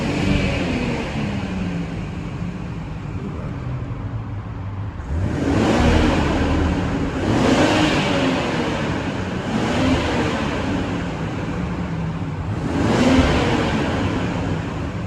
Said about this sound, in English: Let's go to savage mode. Yeah, the turbo kicking way more on.